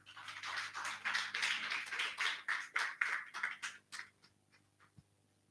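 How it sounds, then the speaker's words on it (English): A small audience at a policy dialogue event gives a brief round of applause for the moderator, quiet, distinct claps in an uneven rhythm that taper off and stop. "Please a round of applause for him."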